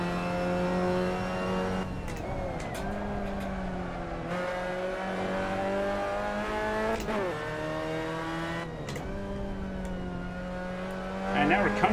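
A Mazda race car engine in the Assetto Corsa racing game drones at high revs with repeated upshifts and dips in pitch, steady and loud throughout, with a voice speaking over it.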